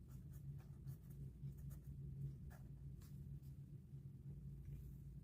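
A pen scratches steadily across paper while a math problem is worked out, faint and close against a low background rumble, with no talking.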